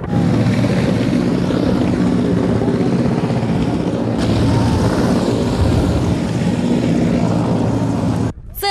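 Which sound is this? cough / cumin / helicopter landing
helicopter landing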